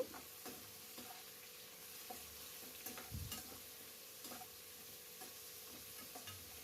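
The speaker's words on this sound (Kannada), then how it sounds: "ಈಗ ನೋಡಿ ಸ್ವಲ್ಪ ಈರುಳ್ಳಿ ಬೇಗ ಬೇಯುತ್ತೆ" Onions frying in a pan, giving a faint, steady sizzle with occasional soft scrapes and taps as they are stirred.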